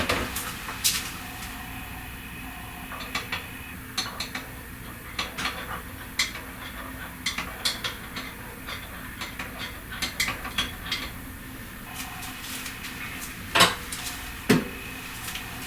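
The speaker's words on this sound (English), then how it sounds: "I just use my ordinary spoon to stir it in." A metal spoon stirs fragrance oil into melted candle wax, giving soft scraping and intermittent clinks against the container, close and quiet with irregular taps throughout.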